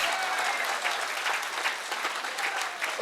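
Audience applause at a gathering, a dense, steady wash of many hands clapping close by for three seconds, with no voices standing out above it.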